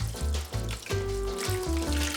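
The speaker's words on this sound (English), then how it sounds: "clean the chicken with the boiled water" Water running and splashing over a whole chicken being rinsed for chicken pho, an irregular series of close gurgling pours and splashes with no speech.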